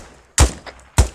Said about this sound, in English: Mortar. Yep.